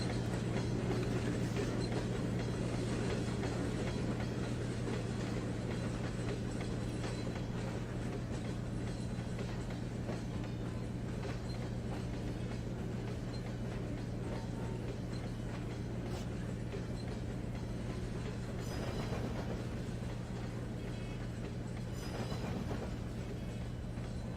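A freight train runs in the Trainz 12 railway simulator during a granary operating session, giving a steady, even rumble with a constant low hum throughout and a few faint clanks, with no talking.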